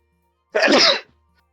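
A single loud, close sneeze bursting out after silence, lasting about half a second before quiet returns.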